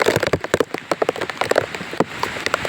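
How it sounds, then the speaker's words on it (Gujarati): Heavy, relentless monsoon downpour, dense drops pattering hard and fast on a nearby surface in an unbroken, loud spatter. "વરસાદે રૌદ્ર સ્વરૂપ ધારણ કર્યું"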